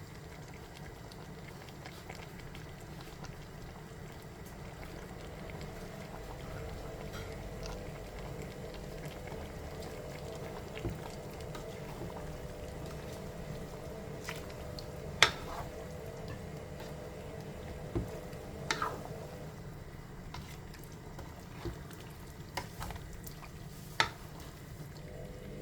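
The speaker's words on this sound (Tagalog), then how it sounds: "Hayaan munang kumulo." Bicol Express, pork in coconut milk with shrimp paste, bubbling steadily in a pot, a soft continuous simmer with a few faint clinks and pops, no one talking.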